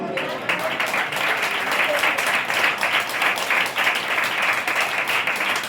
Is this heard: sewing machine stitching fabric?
no